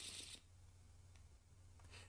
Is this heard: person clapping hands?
no